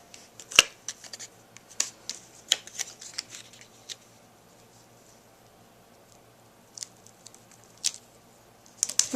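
Scissors trim a paper card in a quiet room, making faint scattered snips and soft paper rustles, grouped early and again near the end.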